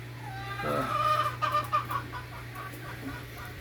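Chickens cluck nearby in a coop in a short run of calls over a steady low hum, then fade to quiet background.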